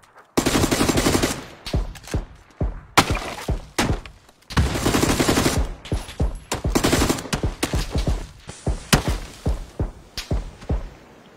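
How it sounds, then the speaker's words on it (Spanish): Rapid bursts of video game gunfire crackle in dense automatic volleys separated by short gaps, some sustained strings and several isolated sharp shots, loud and close with no talk over them. "Están disparando de otro lado."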